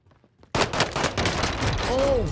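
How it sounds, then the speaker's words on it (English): Rapid video game gunfire bursts in loudly after a short quiet lead-in, a dense, sustained stream of shots with a few swooping tonal effects near the end. "Shooting here."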